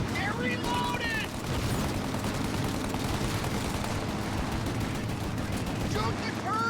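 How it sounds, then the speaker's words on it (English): Gunfire in the video game Mafia Definitive Edition, a sustained heavy barrage of shots and booms that stays loud throughout, with voices shouting over the battle. "Shoot out their gun when there's a break in the fire!"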